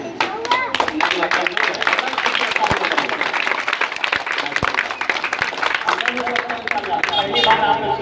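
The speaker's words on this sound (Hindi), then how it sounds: "नज्म का जो होता है स्वागत खूबसूरत तालियों से कीजिए" An audience at an Independence Day poetry recital claps together in a brisk, uneven burst that rises and falls over several seconds, the crowd noise close and fairly loud with some murmuring beneath it.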